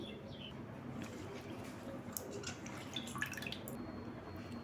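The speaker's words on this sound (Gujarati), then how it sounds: "મેં પત્તરવેલિયાના પાન લઈ લીધા છે તેને ધોઈ લઈશું" Patra (colocasia) leaves are rinsed in water, giving faint drips, trickles and small splashes over a low background hum, quiet and close, with no talking.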